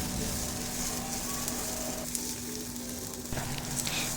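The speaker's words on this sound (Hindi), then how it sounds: "थोड़े से ऑयल में फ्राई हो गई है प्याज।" Chopped onions frying in a little oil in a pan, a steady close sizzle that hisses continuously with faint crackles throughout.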